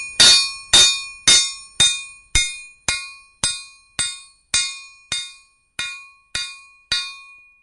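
Steady, evenly paced hammer blows flatten a railroad spike into a knife, about a dozen crisp, ringing metallic strikes in a row, close and loud, with no voices.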